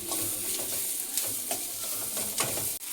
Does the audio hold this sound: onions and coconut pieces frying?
yes